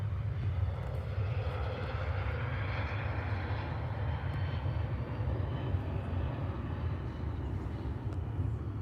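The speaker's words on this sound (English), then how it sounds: "There you go, there's a Ryanair." A Ryanair airliner passes at Manchester Airport, its engines a steady, broad low roar that holds at a constant level throughout, fairly distant with no talk over it.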